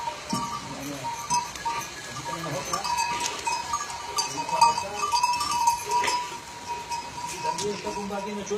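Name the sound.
goats on a farm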